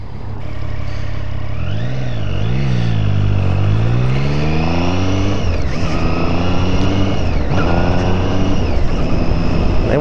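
A brand-new Triumph Street Triple R motorcycle pulls away from a standstill, its engine loud and close. It revs up through rising, falling pitch sweeps and gear changes with no talking.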